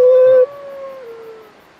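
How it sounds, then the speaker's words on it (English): In a video game, the Great Grey Wolf lets out a loud, close, clear tonal howl that holds steady for a moment, then cuts off into a fainter falling tail, with no talk. "No, that's the Great Grey Wolf, Sith."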